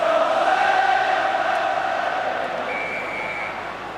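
A football crowd at a Liverpool versus Arsenal match roars after a goal, a loud sustained cheer that slowly fades, with a faint whistle-like tone near the end.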